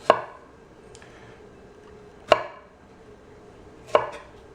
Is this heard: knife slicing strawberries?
yes